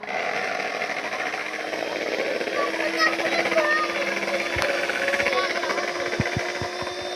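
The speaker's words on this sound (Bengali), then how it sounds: "আর এই ডিমটা ঘোরাবে এই মেশিন দিয়ে" An electric hand mixer whisks cracked eggs with a steady buzzing whir, close and continuous, and voices talk over it throughout.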